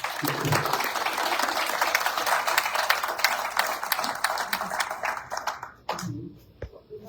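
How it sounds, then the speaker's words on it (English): An audience at a Fort Scott primary election candidate forum claps in a full round of applause that continues steadily, then fades out into a few scattered claps and quiet. "Let's give these folks a round of applause."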